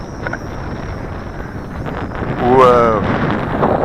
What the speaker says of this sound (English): Look at it fight that wind.